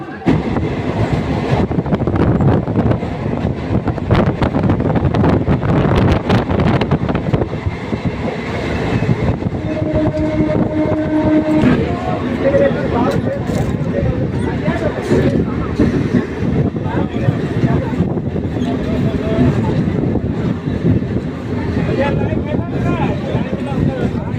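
A Kalyani to Budge Budge local train runs with a loud, continuous rumble and rattle of wheels and carriages, steady throughout, with a brief tonal sound near the middle and indistinct voices beneath.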